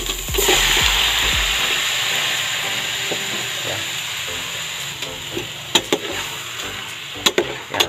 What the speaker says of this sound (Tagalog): igisa lamang po natin to para matanggal po ang lansa